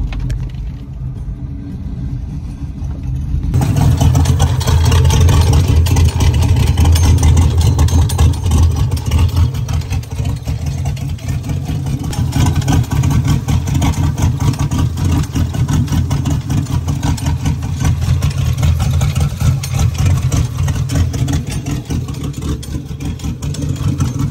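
A Dusty Turbo truck engine cranks and fires after a quiet opening, then settles into a loud, steady, rumbling idle that holds close up for the rest of the stretch.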